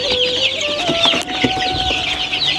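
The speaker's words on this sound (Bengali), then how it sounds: "আর এদিকে আমার এই সব দেশি মুরগি, দেশি ফার্মি একসাথেই বাচ্চা ফোটাই।" Native chickens cluck close by in a steady, busy chorus of short overlapping clucks and chirps, with a higher whistle-like call running through and no talking.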